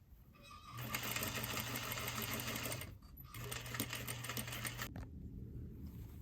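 A sewing machine runs in two steady bursts, stitching stretched bias binding onto the neckline of an evening gown, its fast mechanical whirr cutting off briefly between runs.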